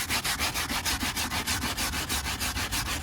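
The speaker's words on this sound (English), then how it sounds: "just scrub the whole thing." Brisk back-and-forth scrubbing of a car interior, a close, loud rhythmic rubbing of about five to six strokes per second, with no speech.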